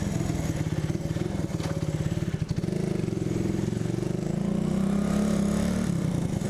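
A 1975 Honda CB125S single overhead cam motorcycle engine fires after a kick start, settling into a close, steady, rapid putter that shifts to a smoother idle tone.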